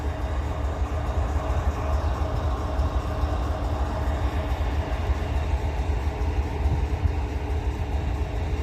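A train locomotive throttles up to start moving up a hill through Abbeville, a steady low, rumbling engine drone with dense grinding texture, continuous and fairly close without pauses.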